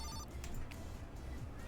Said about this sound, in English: We are taking a call.